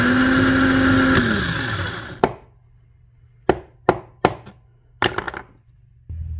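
Starter motor of a Generac 16kW generator cranking on a bench, giving a loud whirring burst, then a series of short sharp clicks and bursts in an uneven rhythm with a low hum between them.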